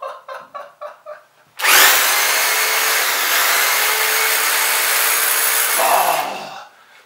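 A free chainsaw starts up after several short pull-cord attempts and then runs loud and steady at high revs for about four seconds before winding down, heard close and alone.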